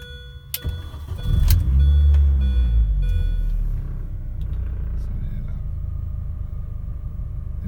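Straight-piped R53 Mini Cooper S exhaust heard from inside the cabin, a deep rumble that swells loudly for a couple of seconds and then settles into a steady lower drone, with a person talking over it.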